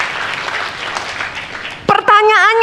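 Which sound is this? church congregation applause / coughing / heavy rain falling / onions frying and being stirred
church congregation applause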